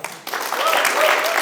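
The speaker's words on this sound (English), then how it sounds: "Let's give a round of applause for you as well." A seated audience at a Confidence Catalyst event in Portland breaks into applause after a short quiet moment, with clapping building quickly and continuing under a voice.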